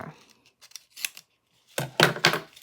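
Scissors cutting acetate for an album closure, a few crisp snips up close, faint at first and then several sharper cuts in quick succession.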